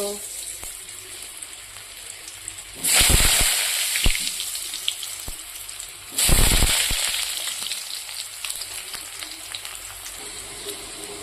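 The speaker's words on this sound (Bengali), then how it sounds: "এবার পরিমাণ মতো তেলে আমি আলুটাকে একটু লাল লাল করে ভেজে নেব" Oil sizzling loudly as potatoes fry in a wok, with two sudden bursts of hissing as food hits the hot pan, then a steady crackle.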